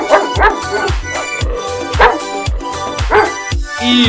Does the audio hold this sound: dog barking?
yes